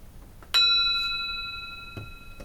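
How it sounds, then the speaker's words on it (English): A single bell is struck once, ringing out clearly with a bright tone that slowly decays into quiet, with faint room noise afterward. "I'm going to ring the bell"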